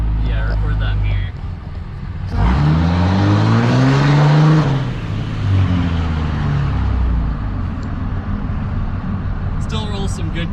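Diesel engine of a 2006 Dodge Cummins pickup with a 5-inch MBRP exhaust, droning steadily while driving, with a louder rising-and-falling surge in the middle, heard from inside the cab with windows down as people talk.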